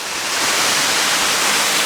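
A steady roar of falling water fills the clip, a dense continuous rush with no pauses, loud and close.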